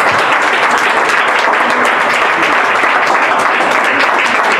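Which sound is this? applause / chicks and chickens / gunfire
applause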